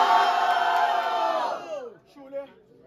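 A battle rap crowd at a Batalha do Forte semifinal bellows in a loud sustained collective cheer lasting over a second, then drops away as a single voice speaks over the tail.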